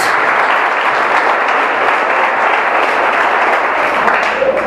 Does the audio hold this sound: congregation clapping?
yes